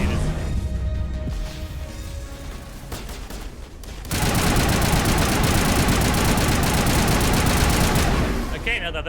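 Gunfire from an overheating gun in Mass Effect Legendary begins with scattered shots, then turns into a loud, sustained rattling barrage that suddenly cuts off near the end.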